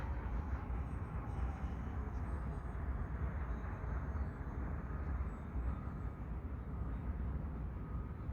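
An E-flite T-28 Trojan 1.1 m RC airplane on 4S power flying at reduced throttle, a steady distant electric motor drone under a broad, noisy wind-blown rumble, without any voices.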